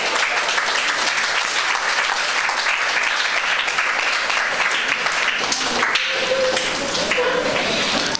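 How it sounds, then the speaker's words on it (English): An audience at a mental health seminar gives a sustained round of applause, dense and fairly loud throughout, with a brief tonal sound and some murmuring creeping in near the end. "I think she needs another round of applause."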